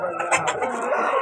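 At a Vijayawada poultry market, a rooster gives short, close clucking and crowing calls in a brief burst over a steady background of crowd noise.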